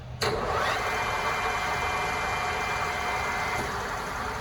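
A DoAll Romi LS-1780 metal lathe spinning at 750 RPM gives a steady, even mechanical hum with a faint high whine, starting with a brief click and then running continuously.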